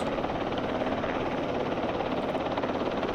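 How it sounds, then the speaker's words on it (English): A steady, loud rotor drone from a helicopter in the Vietnam War strategy game Campaign Series Vietnam runs unbroken throughout, heard alone without voices. "These helicopters will fly back to the base."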